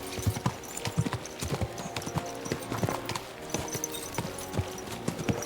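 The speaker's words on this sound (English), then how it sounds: "Let's really spur these horses on, eh?" Rapid, rhythmic hoofbeats of horses galloping in Kingdom Come: Deliverance II, close and fairly loud, with creaks and jingles mixed in.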